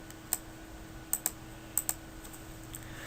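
Computer keyboard keys tapped in a few crisp, close clicks, several in quick pairs, entering a value into a spreadsheet formula against a quiet background hum.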